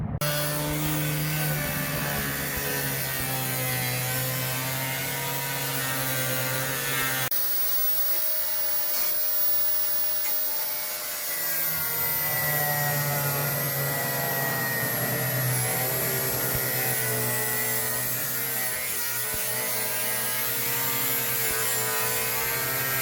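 A power tool saws through the steel quarter panels on the passenger side of a 1970 Camaro, a loud, continuous grinding drone with a steady tonal hum that shifts pitch partway through, with no talk over it.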